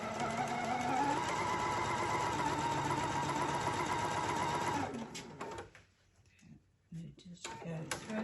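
A sewing machine stitches a quilt at a steady, fast whirr for about five seconds, then stops and starts in short uneven bursts as it misbehaves, with faint talk in the background.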